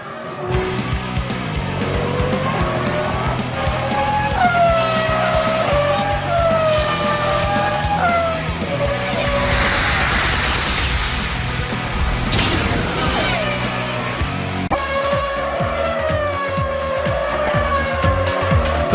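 Formula 1 cars race at the 2002 German Grand Prix at Hockenheimring, high-pitched engines screaming past in repeated rising and falling sweeps over a constant loud circuit roar, with no commentary.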